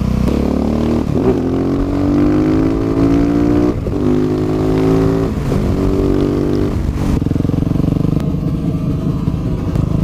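Husqvarna 701 motorcycle with an Akrapovič exhaust and the dB killer removed, loud and close, its thumping single-cylinder note rising and falling through several revs with clattering gearshift breaks.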